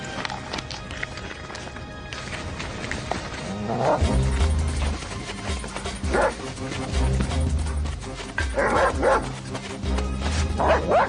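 Dog barks from a police dog breaking out loudly in short bursts amid a busy, noisy scene with hoof-like clatter and movement, the barks repeating at intervals under a steady background din.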